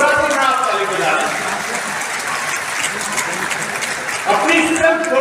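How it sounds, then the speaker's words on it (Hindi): Audience applause at a public event with the Vice President in Haridwar, a dense steady clapping throughout, swelling louder near the end, with voices mixed in underneath. "जोर से ताली बजाइए, क्यों घबराते हैं आप ताली बजाने?"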